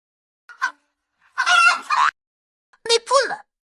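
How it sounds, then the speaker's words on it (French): Chickens clucking in short bursts, three separate squawky calls spread across a few seconds, fairly close and moderately loud, with quiet gaps between them. "Les poules!"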